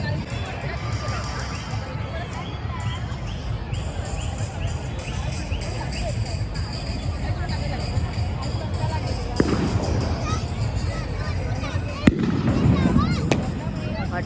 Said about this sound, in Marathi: फटाके पण फुटतात आहे.